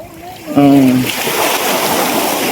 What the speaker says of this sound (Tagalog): Tatampisaw na rin sa dagat.